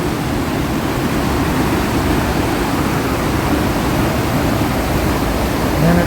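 A river rushes down toward a waterfall at a campground at Little Qualicum Falls, a loud, steady roar of water holding even for the whole stretch without any voices.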